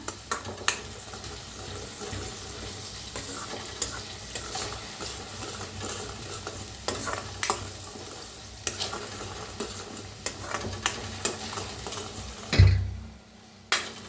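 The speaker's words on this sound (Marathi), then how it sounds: "कांदा छान असा भाजायला लागलेला आहे।" Chopped onion sizzles and fries in a pan while a spoon stirs it with steady scraping strokes, a continuous close crackle that ends in a brief heavier clatter near the finish, with no talking.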